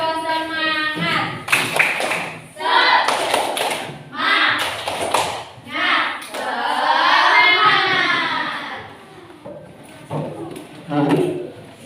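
Schoolchildren in a classroom perform a rhythmic spirit clap, patterned claps and taps interleaved with a teacher's chant and the class shouting back in unison, close and lively.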